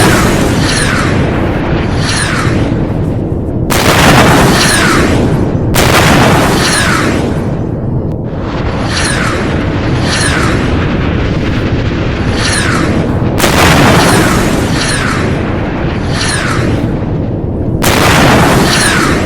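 Turkish hypersonic missile test launch explosions, heavy repeated booming blasts and roaring bursts in quick succession, loud and sustained with barely any pause between them.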